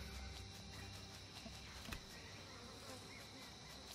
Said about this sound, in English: A lot of flies buzzing around there.